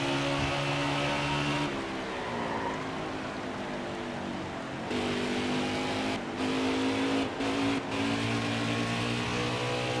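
A NASCAR stock car engine in a racing video game drones and revs under throttle, pitch shifting between gears with brief cuts, loud and continuous with no talk.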